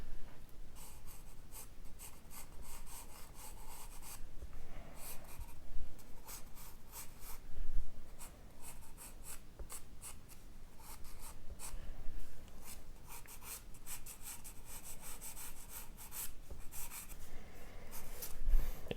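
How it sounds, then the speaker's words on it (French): Red sanguine chalk scratches and rubs across paper in bursts of quick strokes and longer shading passes, close and dry, with short pauses between strokes and no talking. "c'est pas mal la sanguine pour dessiner"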